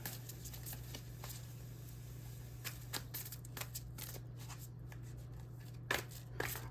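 Moonology oracle cards are shuffled by hand in a quiet room, a series of soft papery riffles and flicks in irregular bursts, close and fairly faint over a low steady hum.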